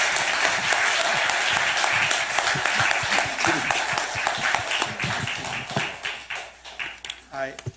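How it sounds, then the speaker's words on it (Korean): Congregation applause honoring Pastor David Park, a dense, loud wash of clapping that thins and fades toward the end, with speech mixed in. "예, 여러분 감사의 박수를 표하겠습니다"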